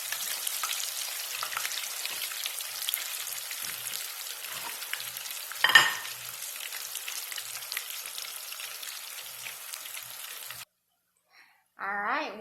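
Homemade tater tots deep frying in vegetable oil give a close, steady crackling sizzle with one sharp burst of spatter midway, ending abruptly; a voice speaks briefly afterward.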